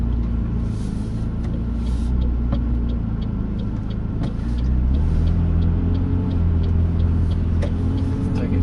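A McLaren 540C sports car idles and begins to pull away on the road, its engine a steady low rumble throughout, slightly louder in the second half, with no voices.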